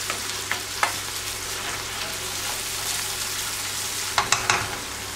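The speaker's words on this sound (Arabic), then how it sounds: "بعد ما غطيت الثوم نحركها مليح مع داك البصل" Garlic and onion fry in a pan while being stirred, a dense continuous sizzle broken by a few sharp clacks of the utensil against the pan, close and fairly loud with no talk.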